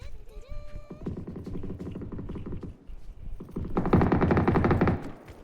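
Gunfire in the video game PUBG: rapid automatic bursts in two runs, the first steady and moderate, the second louder and denser, separated by a short pause, with little else around them.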